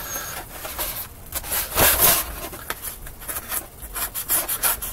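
A blade rasps through material as 45-degree angles are cut for an RC hovercraft build, giving close, uneven scraping strokes that swell and fade in irregular bursts with no talk.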